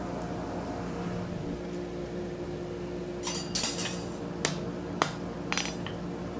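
Forge welding a steel scroll: a few sharp hammer strikes ring out at a moderate distance over a steady background hum, arriving in an irregular cluster of separate metallic hits.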